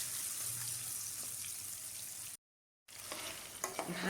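Shrimp frying lightly in hot mustard oil, a steady close sizzle with soft stirring, broken by a brief gap of silence before the crackle resumes, with no voices.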